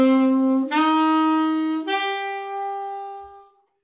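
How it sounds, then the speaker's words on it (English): A B half diminished seventh chord sounded as three successive tones, each entry adding to a sustained, ringing harmonic texture that decays cleanly to silence, with no talking. "Here is the B half diminished chords."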